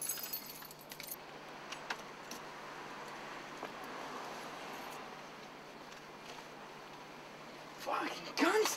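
Keys jangle outdoors beside a car, a faint metallic rattling through most of the stretch that grows louder and more sustained near the end, with people talking nearby.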